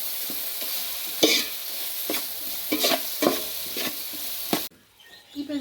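Masala sizzles and frays in a pan while being stirred for kuska biryani, with a steady frying hiss broken by repeated scraping stirs of the spoon, close up and without voices.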